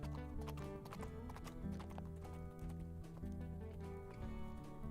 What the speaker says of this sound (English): don't mind my horse. She might go a little fast sometimes